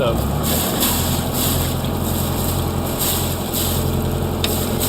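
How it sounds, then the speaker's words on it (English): Steady rush of cooling water splashing out of the exhaust of a running boat engine on a skipjack sailboat, with constant broadband wash and engine rumble, wind noise over the microphone. "What we're looking at now is some water coming out of the exhaust system"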